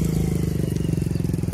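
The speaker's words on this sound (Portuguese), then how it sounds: "Bem silencioso o motor aqui desse Corsazinho" A Chevrolet Corsa's engine idles at a car fair in Caruaru, a steady low rhythmic pulsing heard up close and without pause.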